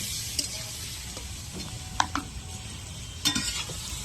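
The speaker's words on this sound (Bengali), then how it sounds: "তেলের মধ্যে ফোড়ন দিয়ে একটু লবণ দিয়ে দিলাম" Spices and salt sizzle steadily in hot oil in a pan for olive chutney, a soft continuous hiss with a few faint clicks and scrapes of stirring, close and fairly quiet.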